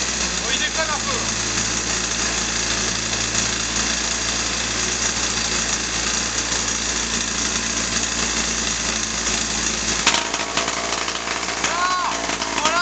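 Racing Solex moped engine revving loud and raw without a silencer, a continuous buzzing roar close by that wavers and shifts pitch near the end.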